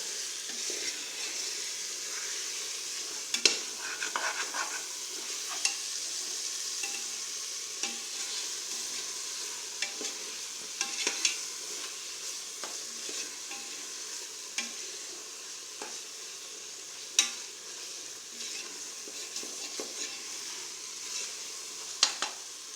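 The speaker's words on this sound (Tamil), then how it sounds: "சிக்கன் பீஸை உள்ளே போட்டாச்சு நல்லா மசாலா அந்த சிக்கனில் பட்டு நல்லா வேகட்டும்" Chicken pieces frying in masala in a pan for biryani give a steady close sizzle. Sharper stirring clicks and scrapes sound now and then, with no talking.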